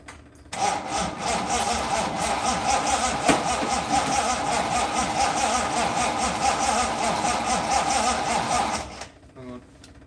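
A 1955 Ford Pop being cranked after more than ten years off the road, stalled with a suspected spark fault: a steady, loud, grinding drone of the starter turning the engine over for about eight seconds, which then cuts off.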